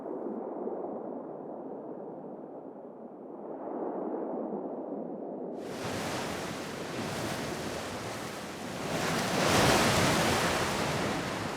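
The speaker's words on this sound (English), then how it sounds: "The sea constantly tries to tear down these new volcanic shores." Sea waves breaking against new volcanic shores on a tropical Asian coast: a dull rumbling wash that swells into a loud, bright surging crash of surf midway, continuing as a full roar.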